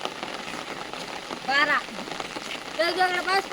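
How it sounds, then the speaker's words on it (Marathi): Heavy rain falls steadily outdoors near rice fields, a dense continuous patter that runs the whole time while a person talks over it in two short bursts. "पाऊस बघा काय पडता"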